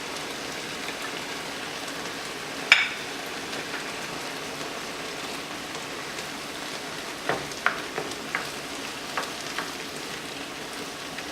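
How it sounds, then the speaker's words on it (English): Ground beef picadillo, Cuban style, with tomato sauce added, sizzles quietly in a pan, giving a soft steady hiss with a few small pops and clicks, no talking. "So we'll add some tomato sauce on this one."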